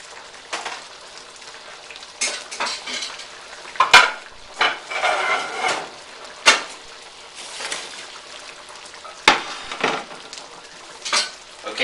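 Shrimp with lobster sauce and green onions is gently folded in a pan, with soft scraping and clinking of a utensil against metal in irregular strokes over a quiet low sizzle.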